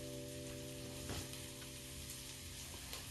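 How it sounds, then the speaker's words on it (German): Onions sizzle and fry steadily in a pan, a continuous close crackling hiss with a faint steady hum beneath, no voices. "Einfach Zwiebeln in der Pfanne."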